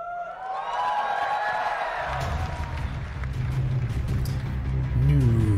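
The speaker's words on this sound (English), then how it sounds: "Yes, crowd reaction, yes." A live crowd at a Mortal Kombat 11 panel cheers at a fighter reveal, a steady roar of voices and whoops that builds and carries over onstage game audio with a low rumbling score.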